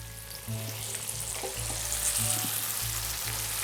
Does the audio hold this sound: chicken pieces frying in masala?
yes